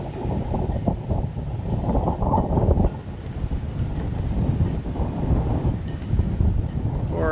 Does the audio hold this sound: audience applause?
no